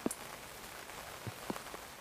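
Rain falling at a Seoul arboretum on a wet weekend morning, a soft continuous patter with a few scattered louder drops landing nearby.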